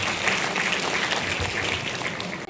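An audience at a school board jubilee award ceremony claps loudly for a student award recipient, a dense, continuous wash of applause lasting throughout.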